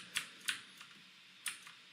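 Computer keys pressed one at a time during compositing work, three or four crisp, close clicks spaced irregularly over a quiet room background.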